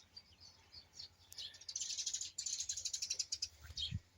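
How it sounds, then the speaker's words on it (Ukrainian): Birds chirp and trill in quick repeated bursts in an autumn garden, moderately close, growing busier midway, with no speech. "Птахи ще співають."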